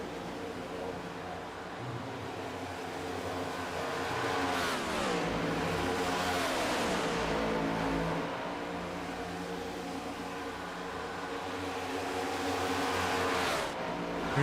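Stock cars in an OP Grand National race roar past on an oval track at night, engines swelling loudly as cars sweep by around mid-clip and again near the end, with a steady racing drone throughout.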